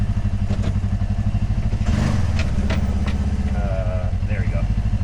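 Kubota RTV XG850 Sidekick utility vehicle engine while driving, a close, loud, rhythmic mid-pitched engine drone with clattering bursts and a brief surge near the middle, continuous throughout.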